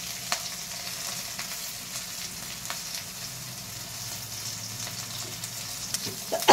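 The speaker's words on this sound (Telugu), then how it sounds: "ఇలా వేగుతున్నప్పుడు చూడండి, మనం మిర్చి అనేది వేగిన కొంచెం వేగినాక ఇందులో జీలకర్ర వేసుకోవాలి." Green chilies frying in oil in a pan for mint chutney, a steady close crackling sizzle with small pops throughout and a brief louder clatter at the very end, no voices.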